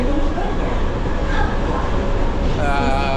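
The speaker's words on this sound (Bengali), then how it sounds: "এটা কম্পিউটার চালিত ট্রেন। মানে এখান থেকে বুকিত বিন্তান দিকে" A computer-driven metro train in Kuala Lumpur rumbles steadily and loudly throughout, with a rising electric whine toward the end.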